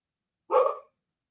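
A dog gives one short, sharp bark, close and fairly loud, surrounded by silence.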